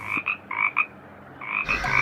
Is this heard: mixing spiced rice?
no